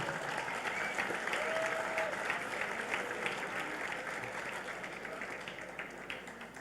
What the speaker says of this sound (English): you should give yourselves a big round of applause for what you've been able to do here